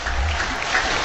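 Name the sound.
cricket crowd applauding a batsman's century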